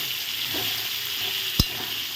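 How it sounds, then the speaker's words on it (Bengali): Sweet potatoes frying in oil: a soft continuous sizzle close by, with one sharp clack of a utensil against the pan near the end. "মিষ্টি আলু দিয়ে দিলাম এখন একই তেলে ভালো করে ভেজে নেব"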